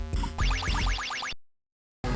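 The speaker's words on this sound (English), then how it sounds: "this pet pickup one, which sounds like this" A short retro chiptune pet pickup effect from a GB Studio Game Boy-style game: a brief buzzy tone, then a rapid run of rising and falling pitch sweeps, clear and alone, ending abruptly in silence before a new sound cuts in.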